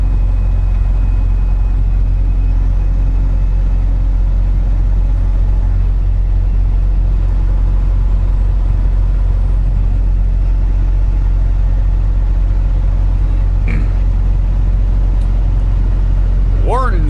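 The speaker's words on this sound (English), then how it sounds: "Wake up the neighborhood with the Jake brakes." A truck's Jake brake engine braking while descending a grade on Route 55 near Moorefield, West Virginia, heard from inside the cab as a fairly quiet, steady, deep droning rumble, with faint muffled talk and a brief rising squeak near the end.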